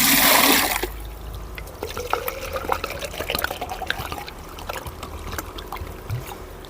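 RO filtered water is poured, beginning with a loud rushing gush that settles into steady splashing and trickling, close and without talk.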